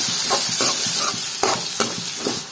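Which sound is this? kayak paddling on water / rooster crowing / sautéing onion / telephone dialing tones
sautéing onion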